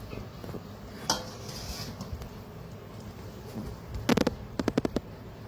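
A spoon scraping and tapping ground flour through a metal sieve, faint soft scratching followed by a cluster of sharp, close metallic taps toward the end.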